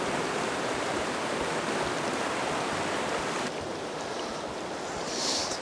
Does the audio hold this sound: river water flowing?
yes